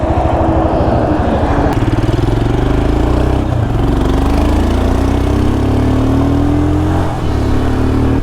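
A motorcycle engine drones steadily and loudly throughout a ride, its pitch rising and falling slightly as the throttle shifts, with no talking.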